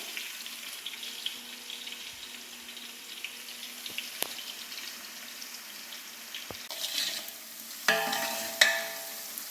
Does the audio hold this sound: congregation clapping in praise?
no